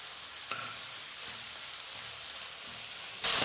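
Onion and green chili hitting hot oil with mustard seeds for a fish curry, giving a steady broadband sizzle throughout, with a brief sharper burst near the start and a louder surge at the end.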